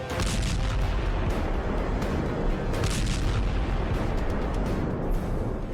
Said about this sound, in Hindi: ये मिसाइल आई और टैंक के ऊपरी हिस्से पर वार किया और फिर देखिए इसमें धमाका होने के बाद